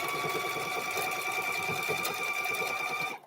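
A sewing machine stitches a quilt, running as a continuous fast, even mechanical whir with steady tonal hum and rapid needle ticking, close and unaccompanied, stopping abruptly at the end.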